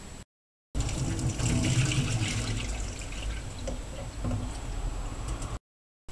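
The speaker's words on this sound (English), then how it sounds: "The first thing to do is wash the rice and take out of it all the starch." Rice being washed by hand in a bowl of water, close wet swishing and trickling for several seconds, bracketed by brief silence.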